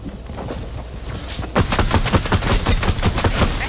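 Gunfire in a Zone Wars video game: after a moment of quieter game noise, rapid, loud shots crack in a quick continuous burst lasting a couple of seconds.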